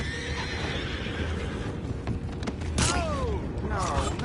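In Red Dead Redemption, a horse whinnies twice near the end, a descending neigh over steady outdoor ambience and faint rustling.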